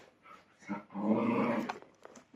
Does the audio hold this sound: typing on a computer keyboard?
no